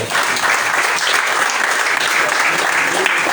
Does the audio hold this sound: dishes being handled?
no